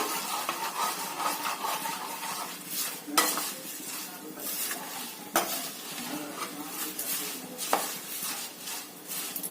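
Peanuts and coconut frying in a little oil for chivda, stirred steadily in a pan with a continuous soft sizzle and repeated scraping and clinking of the spoon against metal, fairly faint and close, with no talking.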